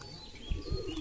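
A pigeon gives a faint, soft coo against a noisy outdoor background, brief and low.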